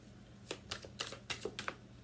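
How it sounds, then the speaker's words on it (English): Oracle card deck being shuffled hard, a quick run of about six crisp card-riffling snaps close by, fairly quiet, with no talk. "shuffling it pretty hard here"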